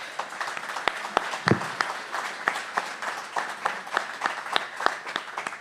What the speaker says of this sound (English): So please join me and give them a round of applause.